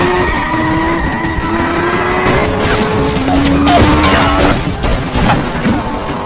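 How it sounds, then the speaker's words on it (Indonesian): In a film chase, a car floors the gas and smashes through a police barricade: a loud engine roar with squealing tires, scraping skids and scattered impact noises, and no voices. "dia langsung tancap gas dan berhasil melewati barikade tersebut dengan cukup mudah"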